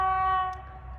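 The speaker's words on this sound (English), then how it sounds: "I love trains. I love train sound. Every sound it makes." A train horn at a small countryside station in Mongolia, sounding a single sustained harmonic blast that cuts off after about half a second, leaving low rumbling rail noise beneath.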